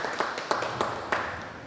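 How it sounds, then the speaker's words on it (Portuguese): Congregation applauding during a church service, heard as a few sharp claps at an even, rhythmic pace in a reverberant room, with no talk over them. "Uma salva de palmas para o Senhor, queridos."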